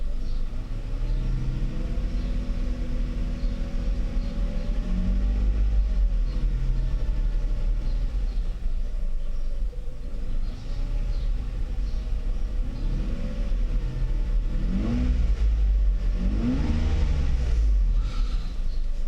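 A Mercedes SL600 engine, just back from throttle body repair, rumbles low and then revs in a few rising and falling pulls toward the end, heard up close and steady with no talking.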